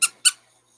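Two short, bright squeaks from a small squeaky pig-shaped dog toy for a pug puppy, sounding about a quarter second apart and close by, followed by near silence.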